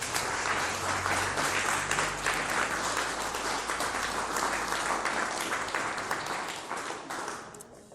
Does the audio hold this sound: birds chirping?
no